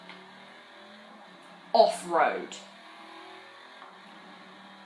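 A car engine in the Forza racing game drones steadily through a city drive, a low continuous hum that sits under a person talking in the foreground.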